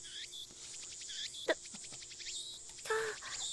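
Cicadas chirp in short rhythmic pulsing bursts, fairly faint and outdoors, with a few brief scattered clicks and a quiet background.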